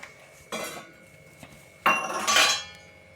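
Sweet pongal is stirred in a pot, a couple of sharp metallic spoon clanks and scrapes against the vessel in short bursts, close and clear with no talking.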